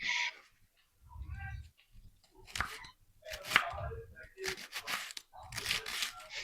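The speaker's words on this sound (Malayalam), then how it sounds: "ഇതാ ഫ്രഷ്നെസ് ഉള്ള കാരണം കൊണ്ടാണ് അത് അരിയുമ്പോൾ നല്ല കിരി കിരി കിരി കിരി സൗണ്ട് കേൾക്കുന്നത്" A knife slicing through fresh home-grown cabbage produces crisp, crunchy cutting bursts in quick succession, close by, interleaved with someone talking between the cuts.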